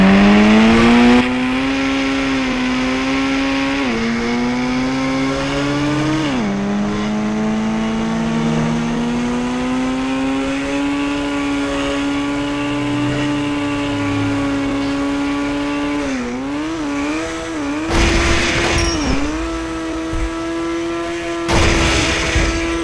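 A vehicle engine runs continuously after a full tank of fuel at a petrol station, its steady drone rising and falling in pitch as it revs, close and loud with no one talking.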